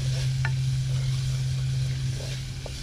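Onion frying and being stirred in a pan for a sea bass risotto cooked outdoors on rocks gives a steady low sizzle with a constant hum and a few faint scrapes of stirring.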